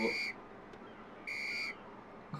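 Two short, shrill whistle blasts from a character in the Lego City Undercover video game, separated by a pause and heard fairly clearly over faint background.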